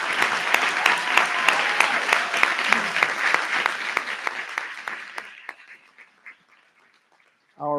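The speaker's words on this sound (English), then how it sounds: "Can we give them one more round of applause collectively?" An audience at a school board meeting applauds students with loud, rhythmic clapping that fades out over about five seconds, followed by a brief silence before a voice begins.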